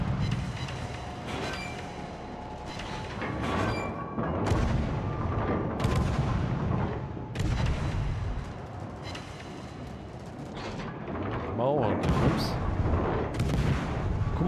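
Warship gunfire in World of Warships: repeated heavy booming salvos at irregular intervals, loud and close, with rumbling between shots and a faint voice underneath.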